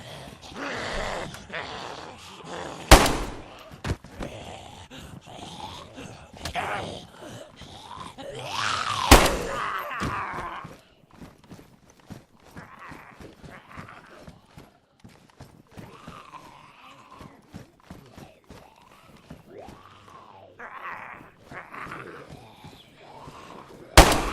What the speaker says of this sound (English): I think I might need to kill some zombies with my pistol.